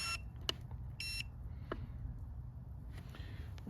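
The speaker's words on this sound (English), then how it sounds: "Turn the beeping radio off" Short electronic beeps from an RC helicopter transmitter for a Carmanon Bell OH-58 model, a few brief tones scattered over steady low background noise.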